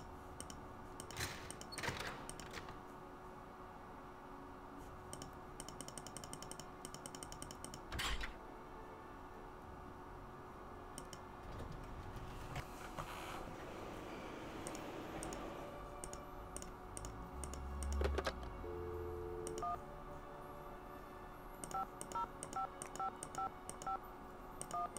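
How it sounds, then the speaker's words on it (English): Electronic beeps and keypad-like tones from the Nancy Drew: Secret of the Scarlet Hand computer game form an error or failure ringing sequence, faint clicks and repeated short tones scattered over a quiet background with a low hum. "it did the failure ringing"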